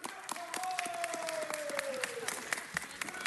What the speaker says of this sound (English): Ladies and gentlemen, give them one more round of applause.